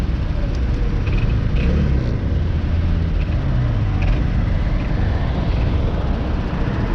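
A car on a road test drives at full throttle, its engine and road noise making a loud, steady rumble throughout with no breaks.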